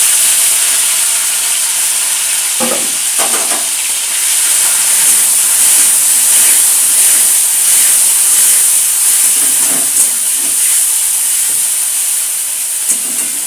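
Prawns and green chillies frying in hot oil, a loud, steady hiss close up with a few faint scrapes scattered through it and no voices.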